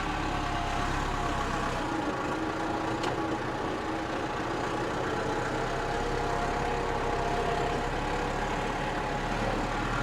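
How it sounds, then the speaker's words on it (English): Tractor engine idling nearby, a steady low diesel rumble that holds constant throughout without revving, no talking. "So I think I'm going to park the tractor in here"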